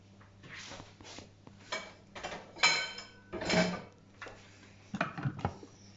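Short plastic knocks and clicks as a measuring cup and lid are fitted onto a Thermomix TM6 kitchen machine while making risotto, a run of separate clattering taps, close and moderately loud.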